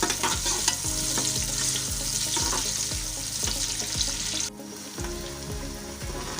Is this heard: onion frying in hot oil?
yes